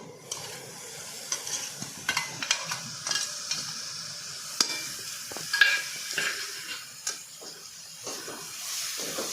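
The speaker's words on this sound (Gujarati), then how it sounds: "અને આ ડુંગળી, કોબીસ અને કેપ્સિકમ એ પણ બધું મિક્સ કરી દેવાનું" Chopped onion, cabbage, capsicum and beans are stirred in a pan over gentle frying, with an irregular series of soft scrapes and clatters over a faint sizzle.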